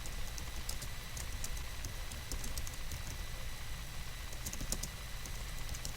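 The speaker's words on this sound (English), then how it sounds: "And you put quotes, and then you type in what you changed." A computer keyboard clicks in quick, irregular runs of faint keystrokes while a git commit message is typed, heard close against a soft background hiss with no talking.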